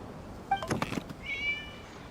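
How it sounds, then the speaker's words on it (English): A cat meows in the Genshin Impact video game, one short rising meow followed by a longer drawn-out tonal call, soft against a quiet game background. "It was just a cat."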